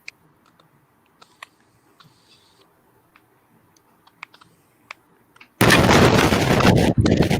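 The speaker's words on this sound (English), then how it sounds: "What the hell is that explosion?" A loud, sudden blast of roaring noise cuts in after a quiet stretch of faint clicks and taps, then holds for about two seconds with a brief dip.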